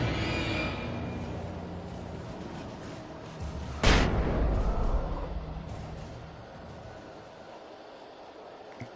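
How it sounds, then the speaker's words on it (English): A flashbang grenade goes off in Alan Wake Remastered: one sudden loud bang mid-clip with a bright burst that rings and decays over several seconds, over a steady background of game ambience. "Flashbang, sweet. I like these."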